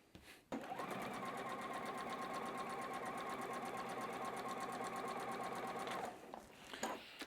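A sewing machine stitches a fabric quilt block in one steady, loud, close run of about five seconds, its rapid mechanical whir starting and stopping abruptly, followed by light handling noise.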